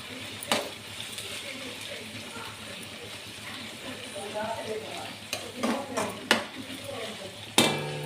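Chili powder and onions fry in a pan for egg tamarind curry, a low steady sizzle punctuated by spoon scrapes and clinks against the pot, growing busier toward the end.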